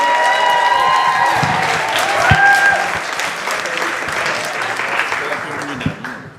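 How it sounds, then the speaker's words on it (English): Loud, sustained crowd applause with cheering and a whistle at a Moth storytelling night as a storyteller is welcomed to the stage, tapering slightly toward the end. "big round of applause, Mr. Maxie Jones"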